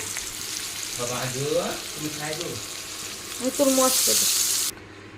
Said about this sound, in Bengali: আমি আলুটা ভেজে নিই বাঁধাকপির জন্য